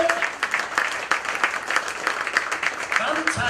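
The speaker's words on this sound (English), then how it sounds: "give yourselves a huge round of applause" An audience at a Florida mentalism show applauds, with steady, fairly close clapping that swells and fades across the moment while a voice talks over it.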